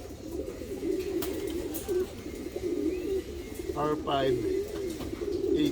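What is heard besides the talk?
racing pigeons cooing as they arrive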